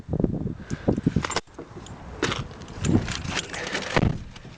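Two keys for a silver Ford Mondeo Titanium TDCi manual jangle and clink close by in irregular bursts, with a short pause before more metallic rattling.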